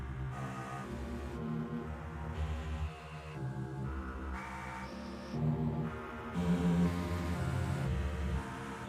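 A set of music loops made for a collaboration website plays quietly, with layered sustained tones over a low pulsing bed and shifting textures that swell slightly toward the end, with no talking.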